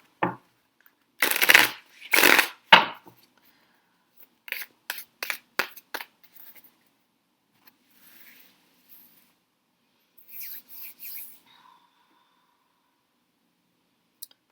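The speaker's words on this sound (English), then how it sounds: "Okay, and I'm going to lay the cards out." Tarot cards being shuffled and laid out in a quiet room: a burst of brisk riffling, then a run of soft separate card snaps and slides, and a last faint flurry of shuffling, close by with no talk.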